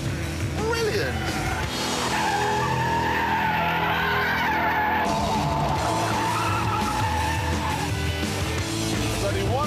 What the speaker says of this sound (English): Let's turn in, whoa, miles of oversteer, you can get it up to the limit, just hold it there.